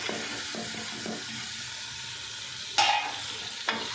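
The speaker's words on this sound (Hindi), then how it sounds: "गोश्त की अच्छे से हम भुनाई कर लेते हैं।" Beef frying with ginger and garlic in a pot gives a soft, continuous sizzle, with a few louder scraping stirs near the end, and no one talking.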